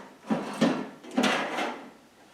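Wooden drawers with dividers slide open and shut in a violin maker's workshop, giving three soft scraping runs in quick succession, fairly close and with no talking.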